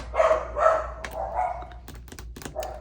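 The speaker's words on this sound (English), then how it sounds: "My dogs are barking." Dogs barking at a distance inside a home, several muffled woofs in an irregular burst with a few soft knocks, faint against a low room hum and with no talking.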